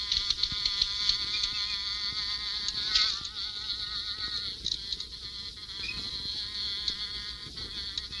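A housefly buzzes around sugar cubes on a table, its whining drone rising and falling as it circles near and away, with a brief louder pass around the middle and no talking.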